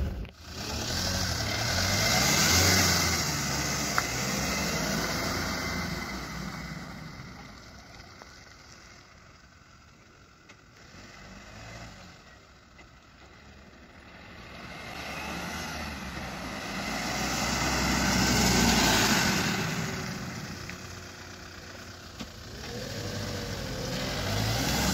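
A 2012 Hyundai H100 van's engine runs on the move, a steady low drone of road and engine noise that swells and eases over time, with no talking.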